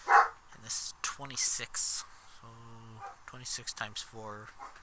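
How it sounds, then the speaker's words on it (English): A person speaks close up while dogs bark faintly in the background. "I don't know if you can hear the dogs in the background, but they're making noise again"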